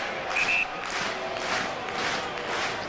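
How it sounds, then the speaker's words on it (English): Rugby crowd at Northampton versus Gloucester booing and jeering a referee's decision, a broad sustained roar of disapproval filling the stadium at steady volume throughout. "will not be influenced one way or the other by the boos and jeers"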